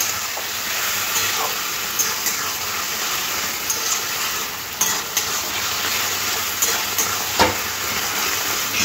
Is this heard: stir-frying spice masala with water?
yes